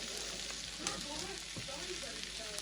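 Roast beef and onions sizzling on a hot grill for homemade Philly cheesesteaks, a steady close frying hiss with occasional pops and crackles, faint talk in the background.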